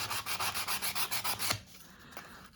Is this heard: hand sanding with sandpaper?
yes